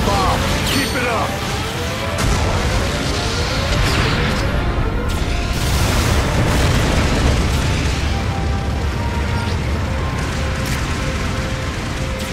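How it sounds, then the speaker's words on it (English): Bombing explosions from a supporting-fire strike in Mobile Suit Gundam Battle Operation 2, a dense rumbling roar of blasts and mechanical clatter running steadily throughout at loud level, with in-game voice callouts over it. "Supporting fire incoming! Clear out of the hot zone! Enemy base has been bombed!"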